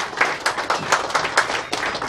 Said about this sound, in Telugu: సార్ గట్టిగా క్లాప్స్ అండి